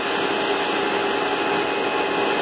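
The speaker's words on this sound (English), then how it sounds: "As you can hear, this nozzle is running pretty good." An Electrolux vacuum power nozzle with a swapped motor runs steadily up close, giving a continuous broadband whirring drone with a faint steady whine and no pauses.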